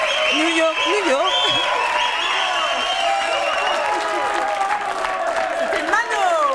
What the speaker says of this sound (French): Je crois qu'on peut l'applaudir très fort à la main.